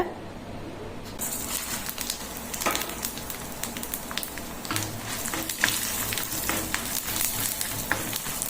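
Black peppercorns, cumin seeds and dried red chillies sizzle and crackle steadily in hot oil, with a constant frying hiss and occasional sharper pops, close up and with no voices.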